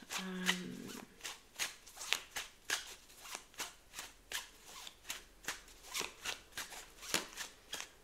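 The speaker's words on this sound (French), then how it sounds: "C'est bizarre, les cartes tombent de manière désordonnée ici." Tarot cards are shuffled in a steady, rapid rhythm, each riffle a crisp flutter close by, continuing for several seconds with light slaps as cards drop, a quiet voice faintly beneath.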